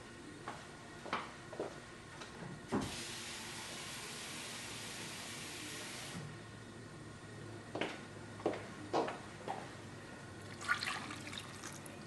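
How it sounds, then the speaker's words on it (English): Two cups of water poured into a pot of pizza soup with mushrooms: a soft, fairly faint gush of water lasting a few seconds, set between quiet clinks and small splashes. "I'm going to go ahead on and add my 2 cups of water"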